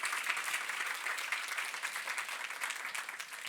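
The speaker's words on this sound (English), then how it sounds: "Can we have one more round of applause for the entire cohort there?" A large audience at a climate solutions challenge finals applauds the competing teams, a steady, even wash of clapping heard from a distance that carries on without a break.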